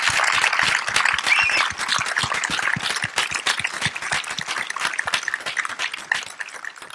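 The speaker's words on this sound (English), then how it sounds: "give Mark and his team a very big round of applause" Audience at a Java conference claps in a sustained burst of applause, dense, steady clapping from many hands filling the room for about seven seconds with no talk over it.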